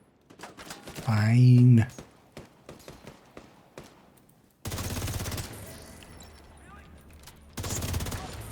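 Bursts of gunfire in a video game, sharp repeated shots in rapid clusters, with a brief spoken word and a loud tonal sound early on before heavier sustained firing later.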